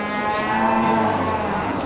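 Bali cattle at a livestock market low steadily in a single sustained moo lasting nearly two seconds, clear and fairly close, with no talk over it.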